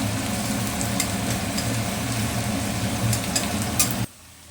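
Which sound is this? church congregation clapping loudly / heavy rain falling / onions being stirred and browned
onions being stirred and browned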